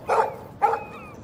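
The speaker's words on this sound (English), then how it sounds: "No barking." Dog barking in the video game Life Is Strange Remastered: two sharp, close barks about half a second apart, with nothing else behind them.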